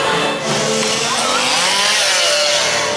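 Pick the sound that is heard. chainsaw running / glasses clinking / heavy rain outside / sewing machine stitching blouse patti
chainsaw running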